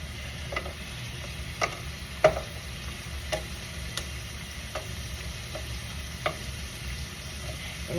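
Steak and cheese frying in a pan, stirred with a spatula: a low steady sizzle under scattered sharp scrapes and taps of the spatula, close and moderately quiet, with no voices.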